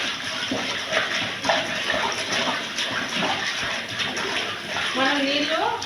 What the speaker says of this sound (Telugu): దీంట్లో వాటర్ అయితే వేసుకోవాలండి